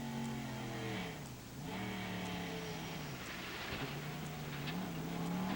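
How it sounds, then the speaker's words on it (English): A 1997 NASCAR Winston West race car heard from onboard at Tucson: a steady engine drone sweeps down and up in pitch as the brakes lock and the engine briefly dies, then it picks back up, loud and close with no talk. "He locked up the brakes. The engine completely died there for a second."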